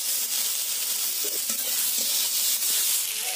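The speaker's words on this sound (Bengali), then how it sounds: "আলু বেগুন আমার প্রায় ভাজা ভাজা হয়ে গেছে" Potatoes and eggplant fry in hot oil in a pan, giving a steady, close, bright sizzle throughout with a few faint scrapes and taps of a spatula.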